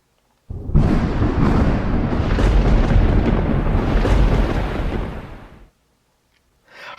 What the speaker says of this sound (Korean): 하나님께서 큰 천둥 번개를 쳐서 블레셋 사람들을 전부 다 멸해버렸어요